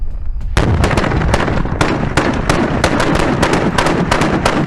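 A 37mm launcher fires pyrotechnic rounds in a rapid, uneven string of loud, sharp bangs and pops, close and continuous with no pause and no voices.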